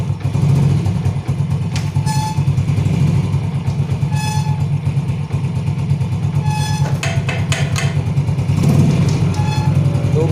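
Yamaha Vega motorcycle engine running in first gear with the rear wheel turning and a rough running fault, a steady loud low drone with a few brief higher rattles over it.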